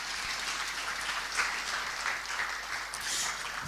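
Round of applause from an audience at the Jubilee House after a speech by Ghana's president at a meeting with the Czech president, a steady, dense clapping from many hands, even and sustained throughout.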